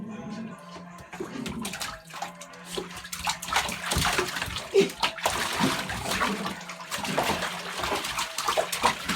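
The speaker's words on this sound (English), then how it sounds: "I've never seen a dog play in the water." Luna, a puppy, splashes and sloshes about in water in a bathtub, with irregular splashes and running water close by and people talking now and then.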